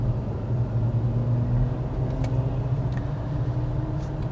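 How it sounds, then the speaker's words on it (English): 2025 Mercedes GLC 350e plug-in hybrid SUV accelerating on electric power alone, heard from inside as a steady low road rumble and tire hum with no engine note, a few faint clicks over the top. "So this is an acceleration in the electric drive mode that just keeps it completely in electric power."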